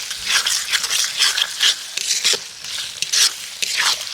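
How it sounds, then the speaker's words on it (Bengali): Spice paste with tomato is stir-fried in a pan for a spicy okra dish, giving close, repeated scraping stirs with a soft sizzle underneath and no talking. "টমেটোটা দেওয়ার পরেও মশলাটা খুব সুন্দর করে কষাবো।"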